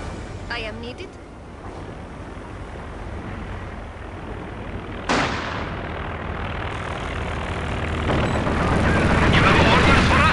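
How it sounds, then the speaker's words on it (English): An airplane in the game Company of Heroes 2 roars overhead during a Soviet campaign battle, a loud sustained engine drone that swells after a sharp crack midway, heavy rumbling underneath. "Airplane."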